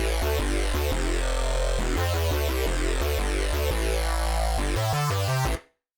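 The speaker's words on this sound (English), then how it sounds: "So that is literally just our bass patch with nothing additional." A dry synth bass patch built in Vital with all effects switched off plays a steady, dense pulsing bass line for about five seconds, loud and alone, then cuts off abruptly.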